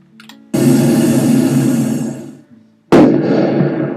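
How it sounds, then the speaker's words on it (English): A consumer firework set off for the Fourth of July gives two loud blasts, each a sharp burst followed by a long fizzing, crackling hiss that slowly fades. "It's just a firework."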